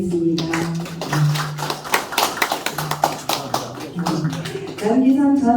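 A crowd at a book launch ceremony claps in steady applause, many hands tapping at once, with a voice speaking over it near the start and again at the end.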